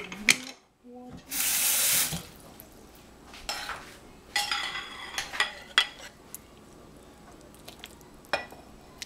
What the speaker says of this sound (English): I'm gonna put a little bit more water.